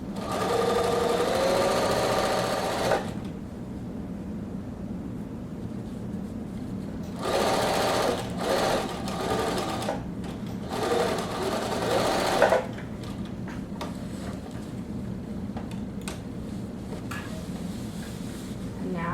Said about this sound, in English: I put my needle down, I lift up my foot, turn my fabric, and then I keep sewing.